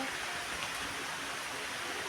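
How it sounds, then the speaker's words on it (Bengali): Heavy rain with gusting wind pours down steadily as a dense, even hiss that never lets up, with no voices over it. "আর দেখো কি বৃষ্টি বৃষ্টি বন্ধ নেই"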